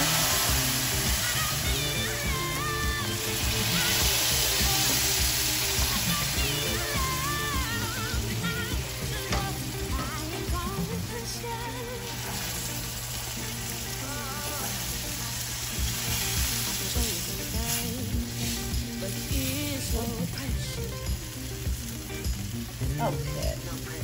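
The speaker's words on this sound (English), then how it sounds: "here we're going to slowly stir in some broth in here" Broth is poured and stirred into sizzling garlic and vegetables for a crawfish étouffée, giving a loud, steady frying hiss with spoon scraping and bubbling close up, continuous throughout with no talking.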